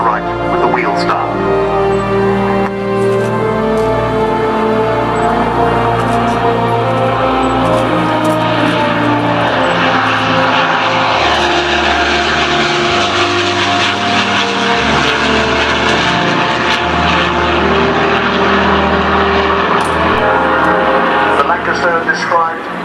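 A large aircraft passes at an air show with a loud, sustained engine roar and droning propeller tones that swell and hold throughout, while a commentator speaks over the noise.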